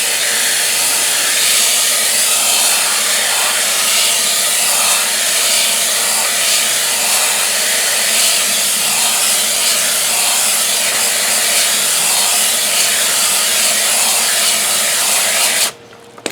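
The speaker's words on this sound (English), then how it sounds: "I'm going to take a hose and simply rinse." A garden hose sprays steadily into a bucket, rinsing a polishing pad set on a grit guard, making a continuous loud hiss that cuts off abruptly at the very end.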